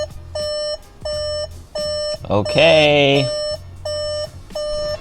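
Regular electronic beeping at a steady pulse, one beep roughly every half-second, while an ECU is flashed on a VW GTI, with a person speaking briefly midway over the beeps.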